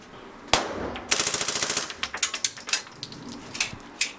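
Suppressed rifle fire with subsonic ammunition, a sharp crack followed by a rapid burst of muffled shots and then several spaced single reports, close and fairly loud with metallic clatter between them.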